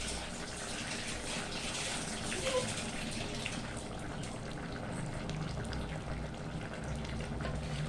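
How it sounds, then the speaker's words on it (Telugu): Hands are washed under a running kitchen tap while cooking bottle gourd dal, with a steady, continuous rush of water splashing throughout, fairly close and even in loudness. "మళ్ళీ మీరు చెయ్యి నీట్గా కడుక్కున్నదే కడుక్కోలేదు అనుకుంటూ చెయ్యి నీట్గా కడుక్కుంటా"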